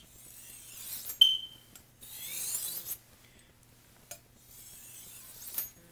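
A knife is stroked across a fine ceramic whetstone of about 1500 grit, giving soft, quiet rasping sweeps in slow irregular strokes with a brief metallic ring, and no talking.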